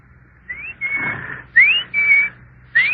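A person whistles in imitation of a cuckoo-clock bird, giving four short rising and level chirping notes in an uneven rhythm, close and fairly loud, with quiet room tone underneath.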